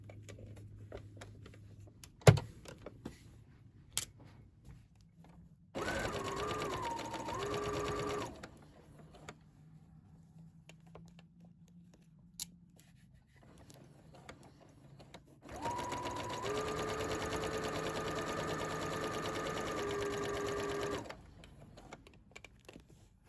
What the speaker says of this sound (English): And now you just stitch your under collar onto your coat here.